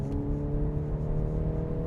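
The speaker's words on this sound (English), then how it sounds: "We have the Euro style package on our tester, which means we get the Akrapovic exhaust." A 2025 VW Golf R engine running through its Akrapovic exhaust, producing a steady, loud, close-up drone with strong low harmonics and an even tone throughout.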